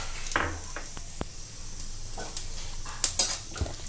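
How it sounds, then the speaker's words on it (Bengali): Whole cumin seeds crackle faintly in hot leftover oil, with scattered light pops and spatters over a quiet background, plus a few sharper clicks near the end. "অবশিষ্ট যে তেলটা রয়েছে এর মধ্যে আমি একটু গোটা জিরে ফোড়ন দিয়ে দেব।"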